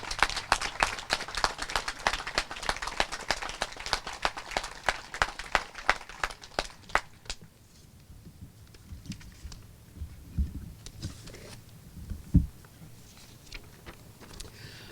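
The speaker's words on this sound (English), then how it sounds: "Please give them a great round of applause." Steady round of applause from a crowd gathered outdoors at a Memorial Day observance in East Brunswick, honoring the police department and fire districts, dense at first and then thinning to scattered claps with no one speaking.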